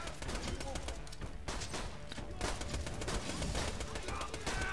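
Gunfire hits the player in Borderlands 2 as dense, rapid bursts of shots crackling steadily throughout, with a voice talking over the fight at times.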